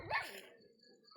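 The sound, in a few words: dog barking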